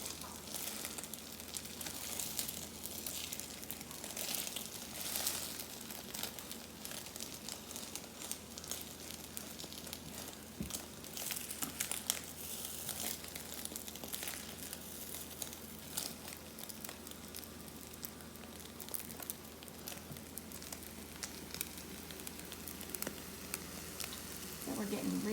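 An omelet sizzles steadily in a pan, a continuous close crackling frying sound with small pops and scrapes that lasts throughout, while a person talks at times over it.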